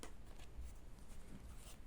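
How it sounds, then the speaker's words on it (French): Oracle cards being shuffled and drawn, a soft, close, continuous riffling and sliding of card stock, faint and steady for under two seconds. "si vous voulez tirer les cartes"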